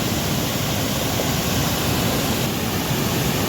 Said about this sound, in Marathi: खूप मोठा धबधबा तयार झालाय इकडून पण पाणी आलंय